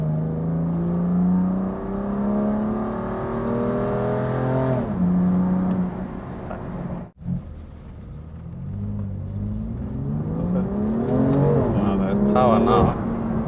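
A BMW M2 Competition engine burbles and drones steadily at close range while driving, with someone talking over it throughout.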